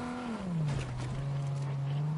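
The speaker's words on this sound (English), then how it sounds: "There's a car pulling up." A car pulling up in Fortnite, its engine tone dropping as it slows and then holding a steady low hum, fairly loud and with no voices over it.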